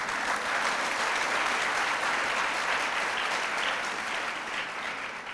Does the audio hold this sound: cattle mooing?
no